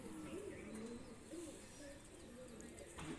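Pigeons coo softly in a loft, several low, rolling calls repeating through the moment under steady background noise and faint chirps.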